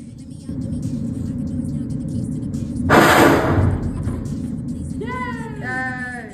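Ethanol vapor ignites inside a jug in a whoosh bottle combustion demo, one sudden loud rushing burst lasting under a second over steady background hum, followed by people talking.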